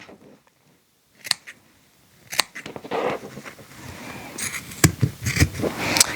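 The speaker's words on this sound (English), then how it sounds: "So I like to take my straight scissors and cut the zipper out first." Straight scissors trim fabric beside a zipper on an unlined sewing project, giving several sharp snips and clicks, close by, with rustling cloth between the cuts.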